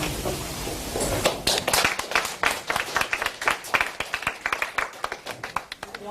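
An audience claps steadily and loudly, the applause thinning into scattered individual claps toward the end.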